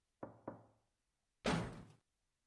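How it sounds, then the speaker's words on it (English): Knocking on a door in the video game Misao: two quick knocks, then a pause and a heavier thud or slam, close and clear with no talk. "I've got a knock on the last door"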